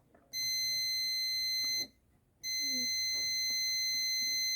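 A multimeter in diode mode, used to check diodes on a 32-inch TV power supply board, gives two sustained high-pitched beeps separated by a short gap, close and clear over a quiet background.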